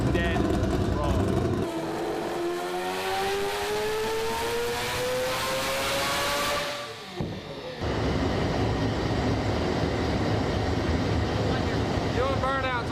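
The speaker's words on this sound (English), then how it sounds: "Doing burnouts on the dyno." Turbo 4-rotor Mazda RX-7 doing burnouts on a dyno, a loud sustained engine roar with pitch climbing steadily as it revs, a brief drop, then continued heavy droning output.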